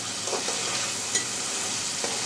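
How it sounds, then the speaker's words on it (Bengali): Spiced masala for a village-style taro root (kochur mukhi) and tengra fish curry is stirred steadily in a hot frying pan, giving a continuous close sizzle with a few soft scraping strokes. "এভাবে নাড়াচাড়া করতে থাকতে হবে নাহলে নিচে মশলাটা লেগে যাওয়ার সম্ভাবনা থাকবে"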